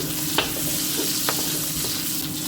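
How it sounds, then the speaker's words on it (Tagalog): Chopped garlic frying in a pan at home gives a steady, close hiss of sizzling, with a few short clicks from stirring and no voices. "Lalagay na po natin ang bawang."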